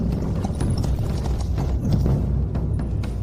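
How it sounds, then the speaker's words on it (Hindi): Hooves of mounted riders' horses gallop outside a fort, a steady rapid clip-clop that is loud and close and continues throughout, with no talking. "किले के बाहर घुड़सवार है।"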